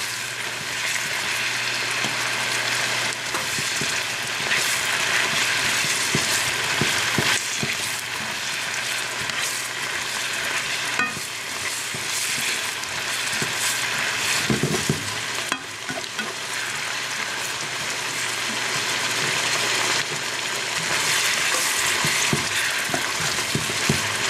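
Onions fry in a pan for beef stroganoff, giving a steady, dense sizzle with occasional scraping stirs and clatters, close and continuous with no talk.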